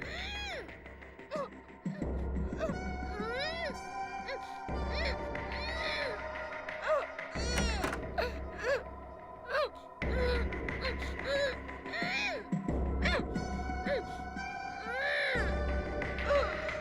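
Crying played back from a tape recorder in a room during a kidnapping case, heard as repeated wailing and gasping bursts with a recorded, slightly tinny quality, running continuously with brief gaps.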